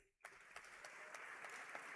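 A convocation audience breaks into applause after a brief quiet moment, many hands clapping steadily and fairly faintly, as if heard from across a room.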